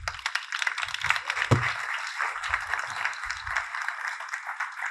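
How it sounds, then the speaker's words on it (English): Audience applause following a ritual at a gathering, a steady wash of many hands clapping at moderate distance, continuous for several seconds with a few low thumps. "Let's give Sam one more round of applause for that beautiful ritual that she just led us through."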